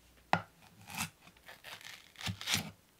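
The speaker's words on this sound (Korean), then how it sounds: "당근 3분의 1개를 채 썬 후 반 잘라 주세요." A knife cutting a carrot into thin julienne strips on a board, giving a few soft, close chops and scraping strokes at a quiet level, with no talk.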